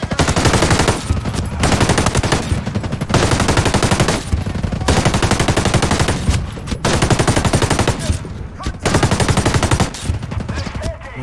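Sustained machine gun fire in the military shooter Ghost Recon Wildlands: loud, rapid automatic bursts in long strings separated by brief pauses, filling the whole stretch with little else audible.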